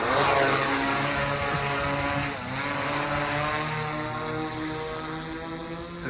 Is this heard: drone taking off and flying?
yes